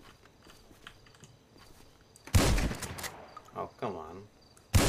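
Two loud shotgun blasts in GTA V, one midway with a trailing rumble and another right at the end, over quiet ambient insect chirping while someone briefly speaks.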